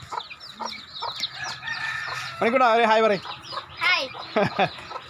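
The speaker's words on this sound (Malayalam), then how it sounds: "നമ്മുടെ വീട്ടിൽ തനിയെ മുട്ടയിട്ട് തനിയെ വിരിഞ്ഞ കോഴിയാട്ടോ, കുഞ്ഞുങ്ങളാട്ടോ." Chickens cluck and call close by in short repeated bursts, with a person speaking briefly over them.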